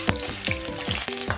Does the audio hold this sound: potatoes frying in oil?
yes